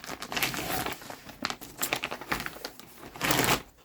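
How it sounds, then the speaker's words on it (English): Plastic packaging around a fabric quilting kit crinkles and rustles as it is opened, in close, uneven bursts of crackling that swell and fade over a few seconds. "Pardon me a second while I do some crinkling and open this up so that I can show it."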